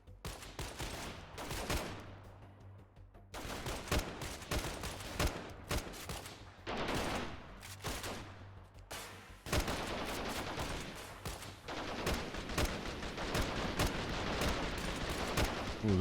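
Shotgun fire in the Freeman: Guerrilla Warfare game, with steady overlapping gunshots throughout at a moderate distance and dense, crackling volleys that keep going without a real pause.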